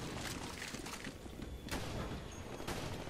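Gunfire in the video game TimeShift, a dense fusillade of shots and booms rolling continuously at moderate level with no talk.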